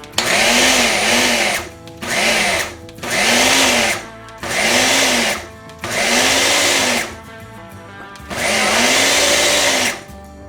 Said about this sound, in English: we actually have the stuff in the food processor / blender, and we're actually going to just pulse it